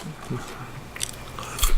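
Someone bites and chews spicy Flamin' Hot chips up close, giving a few crisp crunches amid softer mouth sounds, with one sharper crunch near the end.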